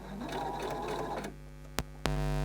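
A sewing machine stitching piping for dressmaking runs in a quick whirring burst for about a second, then stops, followed by a couple of sharp clicks and a rising hum.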